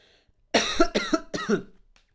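Three harsh coughs in quick succession, close and loud, separated by brief pauses in an otherwise quiet room.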